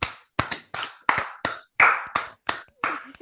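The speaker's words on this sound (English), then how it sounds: "Yeah, clap for yourself." Around nine sharp hand claps from a lone person, irregularly spaced over about three seconds, each crisp and close with a short ringing tail in a small room.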